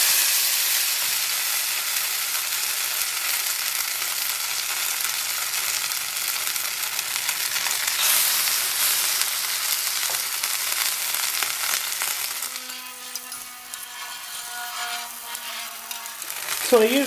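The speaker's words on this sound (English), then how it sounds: "So we have some oil on the pan, it's nice and hot, so I'm going to start frying" Continuous hissing sizzle of zucchini potato pancakes frying in hot oil in a pan, close and steady, quieting toward the end as a faint whine appears.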